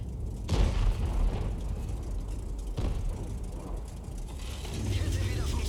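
A King Tiger tank reverses in World of Tanks with a deep, continuous engine rumble and clanking tracks, broken by two sharp, heavy impacts.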